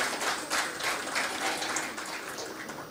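A steady wash of applause from an audience, continuous and moderately loud, with no clear pauses.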